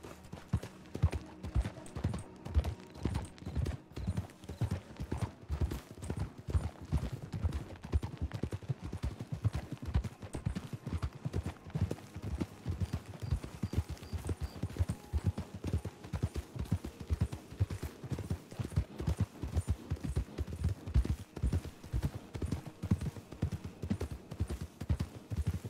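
Horse hooves clip-clopping in the Red Dead Redemption (RedM) video game, a fast, even rhythm of faint thuds continuing throughout, with no talking.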